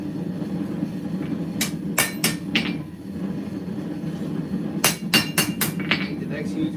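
A hand-forged knife blade is hammered straight on an anvil: a ringing pair of strikes, a short pause, then a quicker run of four or five sharp metallic blows over a steady low rumble of background noise.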